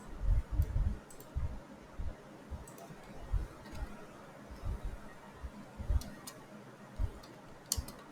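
Keys clicking on a computer keyboard as a sudo terminal command is typed on Ubuntu, a quick irregular run of light taps, some in brief clusters, close and alone.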